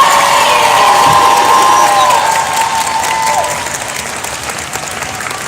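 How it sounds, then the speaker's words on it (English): A convention panel audience applauds and cheers for the X-Files cast, a dense, sustained wash of clapping with whoops that starts loud and slowly tapers off toward the end. "can we get one more big round of applause for the cast of X-Files?"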